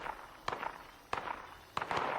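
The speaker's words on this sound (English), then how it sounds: "Oh, there's already gunfire." Gunfire inside the video game Fallout 76: three sharp sound bursts spaced about two-thirds of a second apart, each with a brief echoing tail over a low game ambience.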